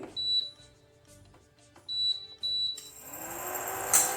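An induction cooktop gives short, clear electronic beeps as it is switched on, three tones close by, followed by a rising hum and a faint hiss as the pan of tamarind and jaggery water begins heating.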